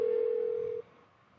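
Steady telephone ring tone in the video game Persona 4 Golden, a single sustained electronic tone lasting under a second before cutting off into quiet background, a call going unanswered.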